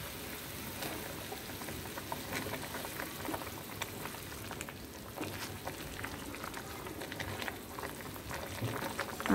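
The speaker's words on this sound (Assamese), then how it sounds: "আলু আমাৰ অলমষ্ট সিদ্ধ হৈ গৈছে" Potatoes simmer in a pot of water with a steady, fairly quiet bubbling and popping that continues without pause, close by.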